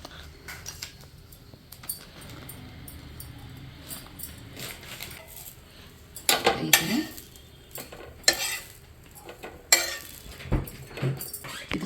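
An egg and cheese mixture with capsicum, coriander, salt and chilli powder being stirred in a bowl, with quiet scraping followed by several sharp clinks and clatters of a utensil against the bowl.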